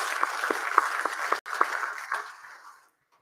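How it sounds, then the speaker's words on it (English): Audience clapping at a youth inauguration ceremony, a dense round of applause with sharp individual claps standing out, fairly loud and steady before tapering off to silence near the end. "Can we give all our new and the youth members a round of applause?"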